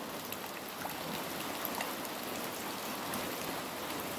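Morning rain falls steadily over a transmigration village in Sepunggur, a soft, even hiss of drops on surfaces that stays constant throughout with no voices.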